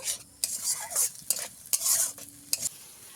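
Sour yogurt, whisked beforehand, is stirred into a pan with a spoon for a Bengali daab bhetki (tender coconut and barramundi) dish, giving a few close, scraping stir strokes in quick bursts over a soft sizzle.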